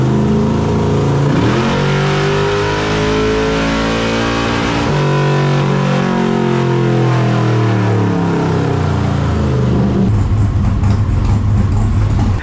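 A 632ci big block Chevy Nova engine roars on a dyno, pulling loud and steady through a long rising rev sweep, then dropping back to a rough, lumpy idle near the end.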